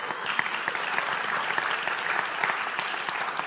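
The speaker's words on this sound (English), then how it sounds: "big round of applause for those people who just stood up" Audience applause for people who have just stood up at an online-course seminar talk, a steady dense wash of clapping that holds at even loudness throughout with no voices.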